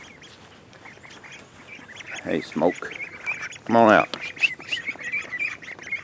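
Ducks on a farm let out a few loud, harsh quacks in short bursts close by, while a person calls out over light background noise.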